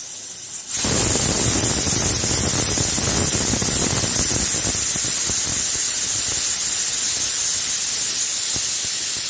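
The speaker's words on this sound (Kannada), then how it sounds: "2 ವಿಸಿಲ್ ಆಯಿತು" A pressure cooker on the stove, cooking rajma curry, lets out a loud continuous steam hiss that starts abruptly and holds steady, close up, with no talking.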